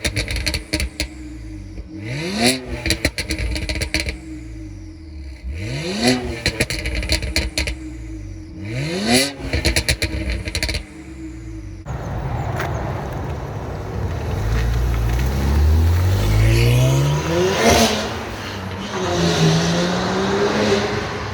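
A tuned BMW E82 135i with full bolt-ons and over 400 bhp accelerates hard through several gear changes, with rising engine notes and brief shift pauses, loud and close, then a longer hard pull with the pitch climbing.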